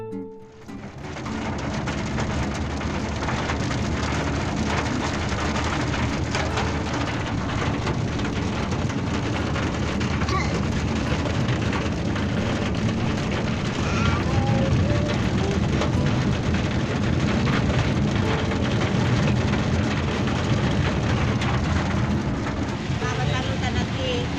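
Steady rain pours on the road to Shegaon, a dense continuous hiss that holds loud and even throughout, with a faint rumble beneath.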